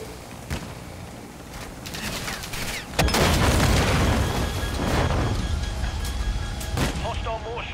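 A grenade explosion in Call of Duty: Modern Warfare II, a sudden loud blast followed by a sustained rumbling roar amid gunfire. Voices call out over the battle.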